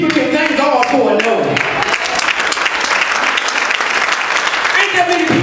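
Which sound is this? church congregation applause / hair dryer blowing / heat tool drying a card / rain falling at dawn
church congregation applause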